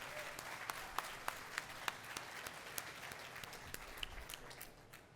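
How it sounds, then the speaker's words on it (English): A crowd at a hospital groundbreaking ceremony claps steadily for several seconds, the dense applause dotted with a few sharper, louder individual claps. "you can clap."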